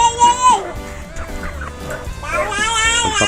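Chickens cluck and squawk up close during a morning feeding, with busy overlapping calls and a few sharper cries.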